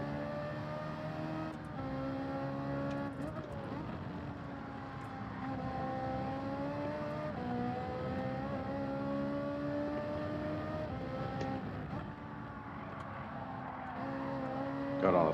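A race car engine in Gran Turismo 7 at the Catalunya circuit revs and accelerates steadily, its harmonic whine rising and falling through gear changes, loud and continuous throughout.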